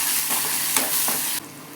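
Cumin, dried chillies, crushed garlic, curry leaves and onion frying for a snake gourd koottu, a loud dense sizzle with a couple of stirring scrapes that drops in level toward the end.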